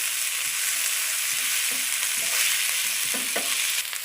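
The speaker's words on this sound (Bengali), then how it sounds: "এবার এর মধ্যে দেবো আমি একটা মিডিয়াম সাইজের কাটা টমেটো। টমেটো দিয়ে ভালো করে কষিয়ে নেব।" Chopped medium tomato fries in oil in a pan, giving a loud, steady sizzle with a few soft scrapes of stirring near the end.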